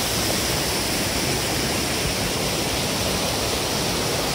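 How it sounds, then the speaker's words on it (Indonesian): Steady, roaring rush of a waterfall at Segara Anak on Mount Rinjani, constant and broadband with no pauses, heard up close. "Inilah kondisi sekitaran air terjun."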